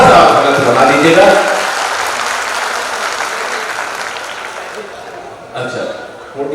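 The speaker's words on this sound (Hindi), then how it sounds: "मैं चाहता हूं पूरा सदन एक बार जोरदार तालियों से आमंत्रित करें प्रोफेसर अशोक चक्रधर" A hall audience at a Hindi humor and poetry event welcomes Professor Ashok Chakradhar with loud applause that starts strong, gradually fades, then briefly swells again near the end.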